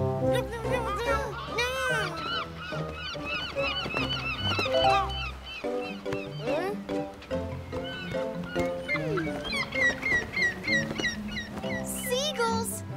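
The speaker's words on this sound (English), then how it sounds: "Seagulls, how pretty!" Seagulls calling in an animated children's episode, repeated high wavering cries layered with music and children's voices, the calls rising and falling throughout.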